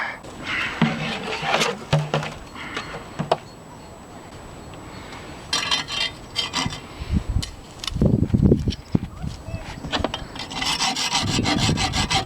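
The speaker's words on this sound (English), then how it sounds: "what I've got to do is get down here and cut through that bolt there" A metal bolt being cut through, heard as bursts of rough, rasping sawing and scraping that come and go in uneven stretches, with gaps and a few heavier knocks, close by and with no talk.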